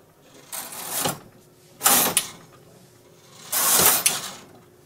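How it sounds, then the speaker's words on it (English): A KH585 push-button knitting machine carriage is pushed across the needle bed in three separate passes, each a loud, close mechanical whirring clatter lasting about a second, with short quiet gaps between them and no talking. "Then I'm going to take the K carriage and knit two rows."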